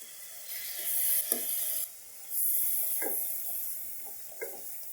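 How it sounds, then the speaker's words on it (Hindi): Onion paste frying in a pan for khoye wale chane, a bright hissing sizzle that swells, dips briefly, then comes back just as strong, with a few stirring knocks. "प्याज का पेस्ट डालने के बाद 2 से 3 मिनट हम भून लेंगे"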